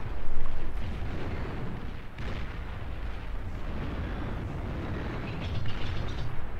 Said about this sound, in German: zeigst mir mal deine strategische Bombe